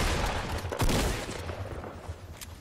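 Fortnite Battle Royale shotgun fire, a couple of moderately loud shots with a sharp blast near the middle over faint background game noise.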